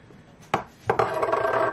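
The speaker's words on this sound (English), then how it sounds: "This is about one handful of walnut, and I'm going to add to the blender." A handful of walnuts drops into a blender jar, giving a sharp hard clatter followed by a second rattling burst of nuts settling against the container, close and brief.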